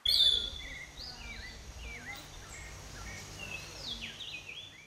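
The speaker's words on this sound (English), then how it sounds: "Probably the birds that I hear." Several birds chirp and whistle outdoors, bright short calls scattered over a quiet background with faint insect hum.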